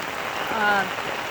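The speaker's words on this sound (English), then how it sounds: "This isn't special effects, folks. This is real rain." Real rain falling outdoors, a steady broadband hiss of drops that runs through the whole moment, with a faint voice briefly surfacing in the middle.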